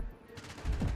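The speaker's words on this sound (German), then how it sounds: "Könnt ihr mal bitte aufhören, auf mich zu schießen?" Gunfire in Call of Duty: Black Ops 6, a short burst of shots with a louder, heavier volley toward the end, fairly close and with no talk over it.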